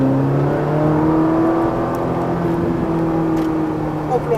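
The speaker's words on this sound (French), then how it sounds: "On réaccélère à fond." A Ferrari 458 Italia accelerating hard during a track driving course at Mérignac, a loud sustained engine drone with rising tonal harmonics heard from the cabin, with faint voices under it.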